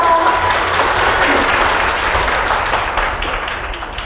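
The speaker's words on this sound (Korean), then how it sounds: "우리 지한이 리더님께 다시 한번 큰 박수 부탁드립니다" An audience at a presentation concert gives the leader a big round of applause, loud, full clapping from many hands that holds steady and then slowly fades toward the end.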